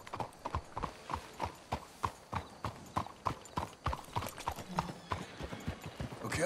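Horse hooves clip-clop in a video game, a steady, brisk rhythm of close, sharp hoof strikes continuing throughout at an even pace.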